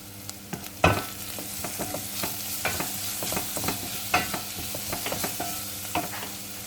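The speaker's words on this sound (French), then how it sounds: "Et une fois nos oignons poêlés, je vais mettre mon laurier et mon oignon." Onions with bay leaf, salt and pepper frying in a pan with steady low sizzling, broken by scattered stirring clinks and scrapes of a utensil.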